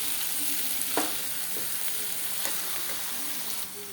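Masala for Punjabi kadhi frying in a pan, a steady close sizzle with a few light scrapes and taps of a stirring spoon throughout.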